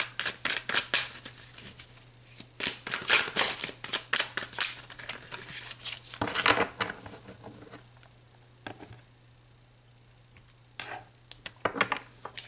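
Tarot cards handled during a pick-a-card reading: a close, rapid patter of cards being shuffled and slid, fairly loud at first, then thinning to scattered flicks and taps, with no talk.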